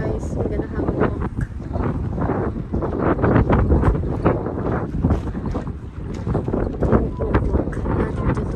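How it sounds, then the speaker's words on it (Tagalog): Strong wind gusts steadily outdoors during a walk, roaring and buffeting the microphone in a dense, continuous rush that swells and eases without pause. "Wow, it's windy."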